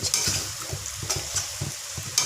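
Mutton sizzles and fries in hot oil with masala, a steady crackling hiss broken by repeated stirring scrapes, close and fairly loud, with no voices.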